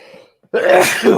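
A person with allergies lets out one abrupt, close sneeze after a brief hush, loud and explosive, then trailing off.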